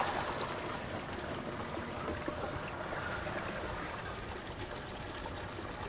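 Water and live elvers pour into a holding tank at the Conowingo eel sampling site, a steady rushing, trickling splash that continues evenly throughout with no talking.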